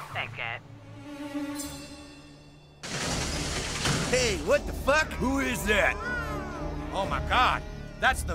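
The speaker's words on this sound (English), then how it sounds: "I can hear cats." Cats meowing in the South Park: The Fractured But Whole video game, several high, bending meows repeated after a pause, close and loud over a hum of game sound.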